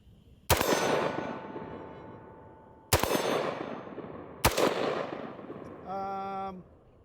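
Three sharp rifle reports from a newly fired gun with iron sights, each with a long echoing decay, spaced a second or two apart outdoors; a brief ringing metallic tone from a struck steel target follows the last shot.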